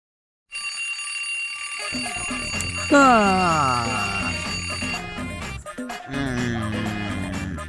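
An alarm clock rings loudly and continuously after a brief silence, a bright jangling tone with shifting pitch, with a voice and music-like tones mixed in.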